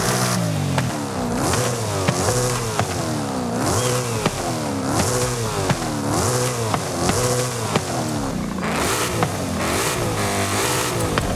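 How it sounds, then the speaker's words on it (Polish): A Ford Mustang Dark Horse engine in Forza Horizon 5 revs repeatedly, with loud rising and falling sweeps in a steady rhythm over continuous engine roar, heard alone with no talk. "Silnik ten standardowy powinien się ładnie rozkręcić."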